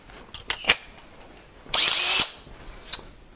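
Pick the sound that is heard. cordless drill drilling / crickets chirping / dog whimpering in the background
cordless drill drilling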